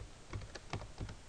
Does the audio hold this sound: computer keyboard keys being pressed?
yes